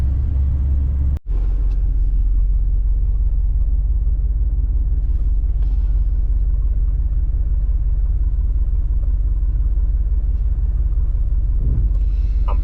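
Low, steady engine rumble and road noise from inside a 1989 Chevy G20 van as it drives, continuous and fairly loud with a brief dropout near the start.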